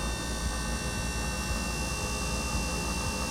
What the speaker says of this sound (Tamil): இவ்வளோ ஸ்பீடாக ஓடுது ரியர் மோட்ரு.